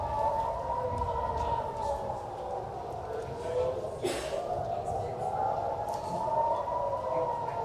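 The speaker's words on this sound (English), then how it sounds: "you hear the sirens there telling people to go and shelter, telling people to go to their bunkers" Air raid sirens warning of a missile attack wail across Tel Aviv, a distant rising and falling tone that swells and fades under steady background noise.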